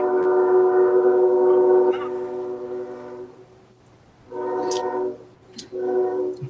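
A train horn sounds with rich sustained tones, holding long at first, then returning in two shorter blasts, with faint rumbling rail noise between them and no talking.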